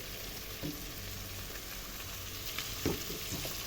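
Peppers sautéing in a pan for kabsa give a steady, close sizzle, with a couple of brief scraping stir sounds near the middle and end.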